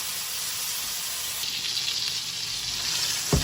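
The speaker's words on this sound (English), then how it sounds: "We'll put in the pan and we'll just kind of baste it." Butter sizzles and hisses steadily in a hot pan while steaks are basted, a close, even frying crackle that swells slightly toward the end.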